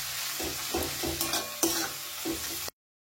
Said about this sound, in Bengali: ভালো করে সব কিছু একসাথে মিশিয়ে নেব।